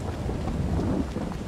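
Steady rain hiss with a low, rolling rumble of thunder underneath in the video game Farming Simulator 22, continuous and fairly loud throughout.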